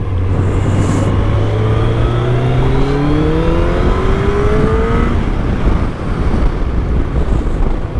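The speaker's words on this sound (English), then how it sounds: "I've now landed myself in a load of traffic, which is a pain in the backside" A Kawasaki ZZR 1100 motorcycle rides through traffic, its engine a steady close drone with tones rising and falling as it changes pace, under loud constant wind buffeting the microphone.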